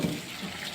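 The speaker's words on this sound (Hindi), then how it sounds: "चावल का पानी निकाल रहे हैं।" Water splashes and pours steadily as it is drained from rice for biryani, like liquid through a strainer into a sink, close by and continuous.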